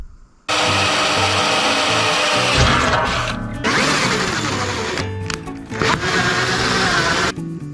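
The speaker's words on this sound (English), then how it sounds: "So I've tapped all the panels now with M6." A power tool taps M6 threads into metal battery-shelf panels with a loud, steady motor whine and grinding. It starts abruptly, runs for several seconds with a few brief dips, and is heard up close.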